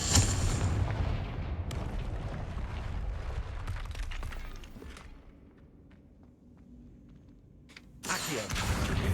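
Confringo fire spell blast in Hogwarts Legacy, a heavy booming explosion up front trailing into rumbling crackles and debris, fading to near quiet before another loud burst near the end.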